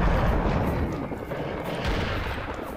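Gunfire in the Serious Sam video game, heard as a dense, continuous barrage of booming shots and blasts filling the whole stretch with little pause.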